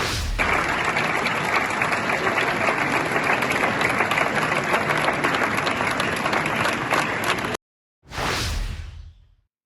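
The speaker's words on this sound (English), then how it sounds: "isn't it lovely to see them all applauding themselves?" UN delegates applaud after adopting the Pact for the Future, a loud, sustained roar of many hands in a large hall that cuts off abruptly, followed by a brief swooshing transition sound.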